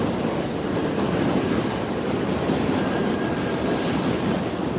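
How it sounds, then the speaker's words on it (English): Train rumbling and rattling steadily past near a station in New York City, a loud continuous roar of wheels on rails with faint squeals, no voices. "It was right outside the train station, so I had to listen to this train all night"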